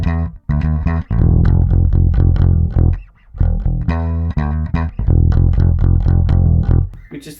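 An earlier recorded version of a band's song plays at full volume, taken from the section just before the last chorus: a dense, distorted rock mix with short breaks at about 0.5, 3 and 7 seconds.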